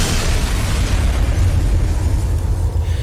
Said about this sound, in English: The sounds of distant explosions coming from somewhere BrB0sch can't see.